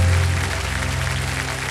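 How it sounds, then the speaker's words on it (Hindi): Studio audience applause on the Kaun Banega Crorepati game show, a dense, steady wash of many hands clapping, loud and close, with no voices over it. "तालियां बज जाए इनके लिए।"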